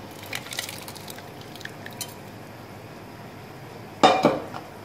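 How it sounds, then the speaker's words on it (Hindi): A spoon or ladle stirring mutton haleem mixed with ground dal in a cooking pot: a few faint scrapes and taps early on, then a sharper metallic clatter against the pot near the end, no talk. "इसे अच्छी तरह से हिला देंगे"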